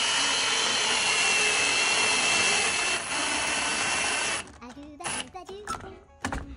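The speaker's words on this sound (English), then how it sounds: "If you take another hook, put it in your drill, chuck that in your drill, put it on low speed." A power drill on low speed twists a screw hook into place, a steady close whirring hum for about four seconds that stops abruptly, followed by brief clicks and handling noises.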